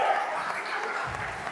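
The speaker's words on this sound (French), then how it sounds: "qui satisfait tout le public venu nombreux qui applaudit nos deux athlètes" Audience at an Elite Oceania boxing championship bout applauding after the fight, a steady wash of clapping throughout with faint voices mixed in.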